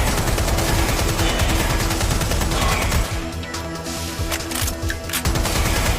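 Rapid automatic gunfire rattles loudly and continuously through a Watch Dogs Legion firefight, dense bursts dominating at first, then continuing slightly thinner over a lower background hum.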